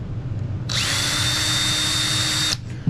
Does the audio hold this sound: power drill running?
yes